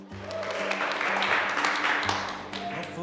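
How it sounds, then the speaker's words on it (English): Steady applause from a crowd runs throughout, with a low tonal hum beneath and a voice briefly audible in the mix. "That's a really weird place to add an applause."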